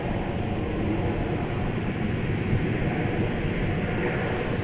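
Broadband roar of a Qantas Boeing 737 jet fitted with split scimitar winglets passing at an airport, a steady loud rush of engine noise with no break.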